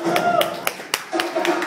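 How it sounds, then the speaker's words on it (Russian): An audience welcomes an aikido master at a real aikido event with sparse, rhythmic claps in a steady beat, laid over a sustained tonal backdrop. "Ваши аплодисменты, встречайте!"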